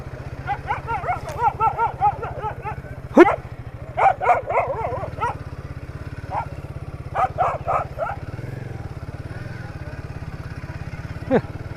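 A dog barks and yips in sharp repeated bursts at motorcycle riders passing on a coastal Konkan road, the barking rising over a steady low engine drone.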